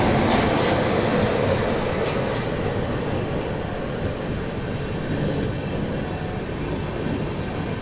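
Steady heavy rumble of a moving passenger train, the 22222 CR Rajdhani Express, as it overtakes the Banaras LTT train, heard continuously from onboard with constant rolling rail noise and wind throughout.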